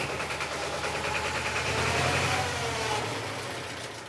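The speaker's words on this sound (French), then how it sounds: "Le laisser chauffer de temps en temps un peu le moteur." An engine is left running to warm up and idles at a steady, moderate level, with a broad rumbling hum that swells slightly midway and then eases off, with no talking.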